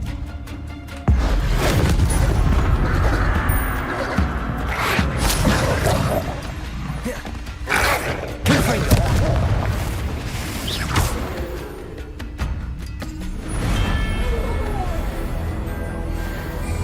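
Fireball-style Confringo spell explosions in the Hogwarts Legacy video game, a run of booming blasts and whooshes over a dense continuous bed of game sound and music.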